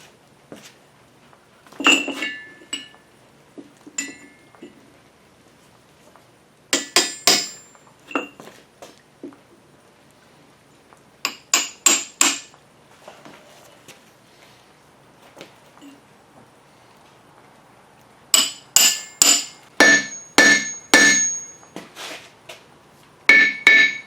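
An anvil being hammered down onto a wooden log mount, heard as sharp metallic strikes in quick clusters of four to eight blows, separated by quiet pauses, loud and close with no talking.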